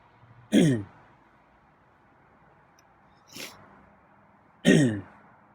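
Three separate coughs or throat-clearing bursts, each short and harsh, spaced a few seconds apart with quiet in between; the middle one is softer.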